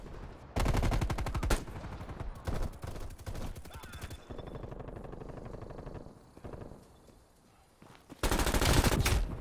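Rapid automatic gunfire in a first-person shooter, loud dense bursts at the start, middle and end with quieter stretches of game noise between, less sustained than the light machine gun the player is used to.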